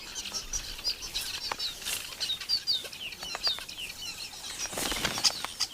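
A weaver bird colony in Tanzanian acacia woodland, with busy bursts of wing flapping and sharp chirping calls from many birds, fairly close and constant.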